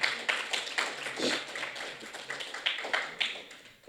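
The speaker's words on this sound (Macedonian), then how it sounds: "Ја молам аплауз за тоа" An audience applauds a prize at the awards and closing ceremony of the 14th Philosophical Film Festival, a sustained wash of clapping that swells and fades, with no speech over it.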